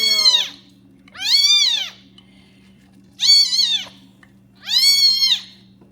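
A kitten meows four times, high and clear, spaced about a second apart, close by over a faint steady hum.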